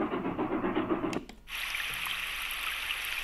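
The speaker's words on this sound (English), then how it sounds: "Number 6, spring rain." Soft, steady hiss of spring rain from a Sound Oasis S-6000 sound machine, falling continuously, following a brief fade from a louder rumbling sound at the start.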